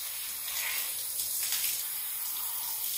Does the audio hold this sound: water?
yes